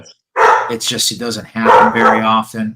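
A dog barks and yips in bursts at home, overlapping with someone talking close by.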